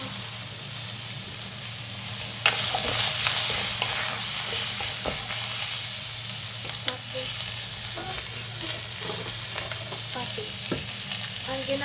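Squash and green beans sauté in a pan with steady, close sizzling and occasional stirring clatter, the frying hiss swelling loudly for a moment and then holding even throughout.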